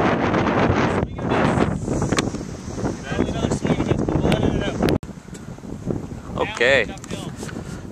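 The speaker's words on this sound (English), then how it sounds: "It's definitely windy." Strong wind gusts across a golf links course buffet the microphone in loud, heavy rumbling bursts that ease off midway, with people talking briefly over it.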